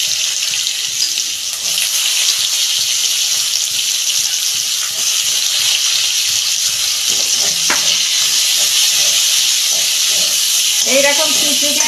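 Onions sizzle in hot oil over a tempering of black cumin (kalo jeera) in a home kitchen. A steady, fairly loud frying hiss runs throughout, with a brief clatter of stirring near the end.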